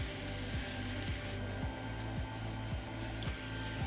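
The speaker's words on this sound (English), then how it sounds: "Simple press of a button. Vacuum turns on." A Chrysler Pacifica minivan's built-in Stow 'n Go vacuum runs steadily as a continuous motor whine with a strong low hum, interrupted by regular rhythmic clicks or pulses about twice a second, close and fairly loud with no talking.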